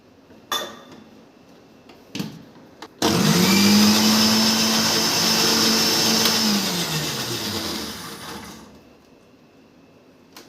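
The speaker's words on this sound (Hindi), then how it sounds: "तो इस कटी हुई प्याज को हमने मिक्सर ग्राइंडर में डाल देना है।" A mixer grinder whirs loudly for about six seconds while grinding chopped onion with a little water, winding down afterward, with a few clicks and knocks before it starts and after it stops.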